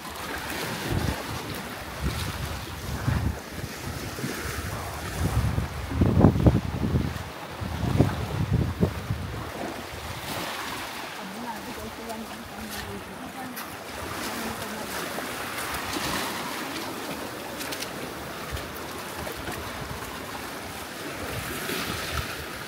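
Sea waves wash onto a beach at high tide, with a rough swell of surf early on easing into a steady low roar, buffeted by wind noise on the microphone and no voices.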